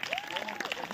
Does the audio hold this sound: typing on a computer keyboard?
no